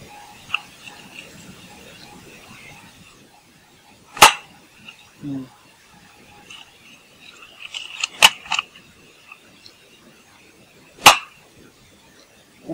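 A Chinese replica Magpul FMG 9 airsoft gun fires a few separate sharp snapping shots, spaced seconds apart, over a quiet room with faint background noise.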